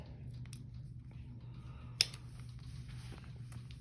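Scissors give a single sharp snip through a bracelet knot, close and crisp, over a low, quiet room hum with faint small handling sounds around it.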